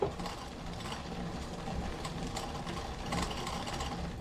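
While pedalling a gravel bike with a 2x drivetrain, a faint, continuous mechanical whirring and ticking comes from the chain and gears. It stays soft and steady throughout.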